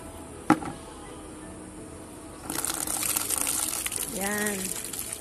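Water gushing into containers while fetching water, a steady splashing flow starting abruptly after a sharp knock, with a voice speaking over it near the end.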